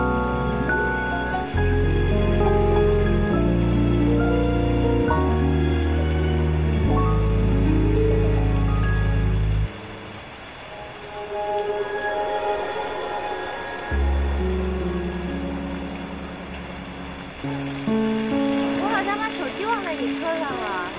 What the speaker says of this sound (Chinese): 哇，突然间这么大雨。